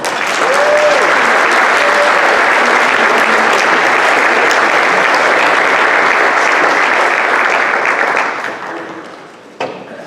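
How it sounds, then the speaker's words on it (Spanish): Audience applause for speaker Miguel Torruco, dense and loud, sustained for about eight seconds before thinning out and stopping, with a last few claps at the end. "Les pido que nos acompañen un fuerte aplauso para nuestro ponente."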